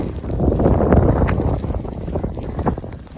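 A small forklift with a front snowplow rumbles nearby amid gusty wind noise and scraping in snow, a rough continuous machine drone outdoors.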